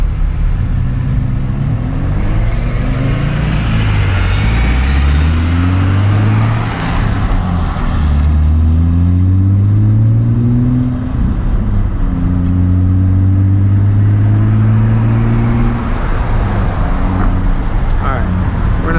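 A Nissan 350Z accelerates hard at night while chasing a V12 Ferrari. The engine drone sweeps upward through several rising rev pulls and gear changes, heard from inside the car under a constant roar of road and wind noise.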